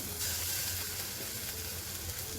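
Cumin seeds and ginger-garlic paste hit hot oil with onion for a spicy brinjal bharit, giving a loud, continuous hissing sizzle that stays even throughout the short stretch.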